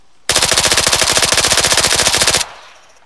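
Rapid automatic gunfire from a video game rattles loud and close in one sustained burst of about two seconds, then cuts off to quiet.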